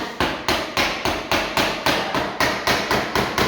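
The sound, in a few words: plastic hammer tapping a sliding door part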